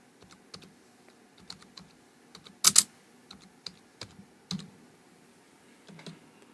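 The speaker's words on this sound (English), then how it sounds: "we're going to type out Deform text" Text is pecked out on a computer keyboard, a sparse run of light, irregular key clicks with one louder burst of quick taps midway, close and quiet with no talking.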